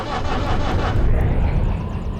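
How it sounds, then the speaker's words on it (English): A diesel locomotive in the Derail Valley train game fires up, a loud, steady low engine rumble that holds throughout at close range, with a brief lift in level partway through. "Right, let's fire her up now."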